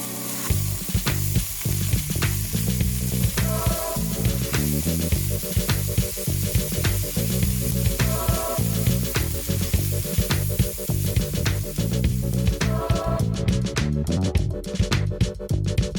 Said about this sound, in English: Add half of the chopped red spinach and mix well.